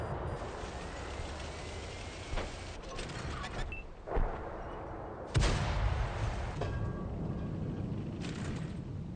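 Tank guns firing in a video game, a few heavy booms spaced out over a steady engine-like rumble, the loudest blast coming near the end, with no voices.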